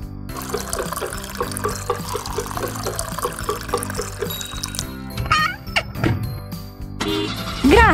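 Water pours into a toy water truck during children's play with toy service vehicles: a steady liquid splash runs under light music, followed by a few brief plastic knocks and clatters near the end.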